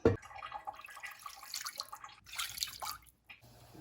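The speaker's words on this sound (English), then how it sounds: "And I'll rinse that out with hot water." Hot water from a kitchen tap runs and splashes into a container as it is rinsed out, a steady close hiss of flowing and sloshing water lasting a few seconds before cutting off.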